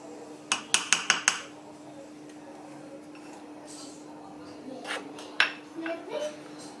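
A spoon clinks against a pot while a strawberry dessert mixture is stirred off the heat: a quick run of sharp metallic taps, a quiet stretch, then a few more scrapes and clinks, with faint voices in the room.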